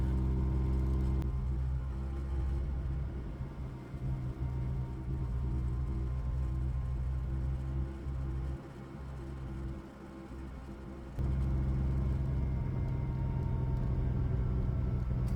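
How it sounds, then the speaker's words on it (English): A car fitted with an AMR500 supercharger accelerates gently on the road, its engine and road noise a steady low rumble that dips briefly midway and then swells again. "As I press on the accelerator a little bit, the car has no problem increasing speed"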